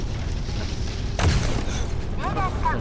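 Naval cannon fire from the H/PJ-45B gun in the Modern Warships game: a sudden loud boom that rolls into a sustained rumbling burst, with game effects and speech-like sounds over the top.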